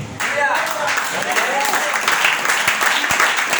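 A church congregation breaks into steady applause during a sermon, a full, even roar of clapping that holds from start to finish, with a voice briefly audible at the start.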